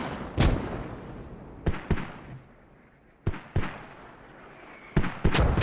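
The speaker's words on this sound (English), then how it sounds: "And the mortars just don't stop." Mortar rounds in the military shooter game Squad, a string of sharp, booming blasts at irregular intervals, some in quick pairs, each fading into a low rumbling tail with no talking.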